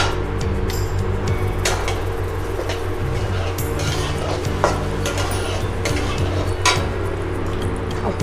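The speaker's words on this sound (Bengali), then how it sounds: "হালকা আঁচে চাল, ডাল ভেজে নেব।" Rice and lentils frying over low heat in a pan, stirred with a continuous scraping and rustle plus light metallic clinks of the spoon, close up, over a steady low background hum.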